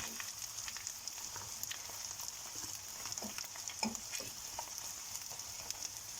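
Eggs and slices of cheese fry in a pan, giving a quiet, steady sizzle with scattered soft pops and crackles, no talking.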